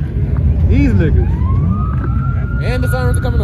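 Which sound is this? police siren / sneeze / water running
police siren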